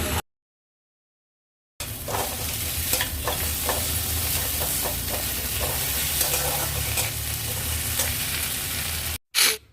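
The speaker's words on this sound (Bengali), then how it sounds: "পেঁয়াজটা একটু ভাজা হয়ে যাওয়ার পর দিয়ে দেবো আদা কাঁচা লঙ্কা বাটা" Ginger and green chili paste fries with onions in oil: after a short silent opening, a dense, continuous sizzle sets in with occasional stirring scrapes close by, no one speaking.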